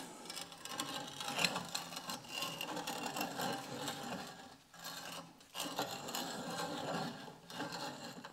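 A wobbly thread cleaning tool grinds and rasps through tapered NPT pipe threads, a continuous quiet scraping with short pauses and no speech.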